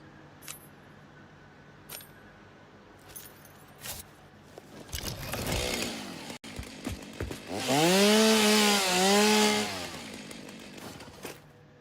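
A loud chainsaw in the game Satisfactory roars to life and whines through a cut, its pitch rising and dipping, after scattered clicks and knocks.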